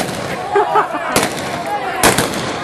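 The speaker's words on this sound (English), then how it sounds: "They start shooting, so oh, look out" Two loud, sharp gunshot cracks about a second apart ring out over crowd murmur and voices at a staged Western-style bank robbery with costumed cowboys.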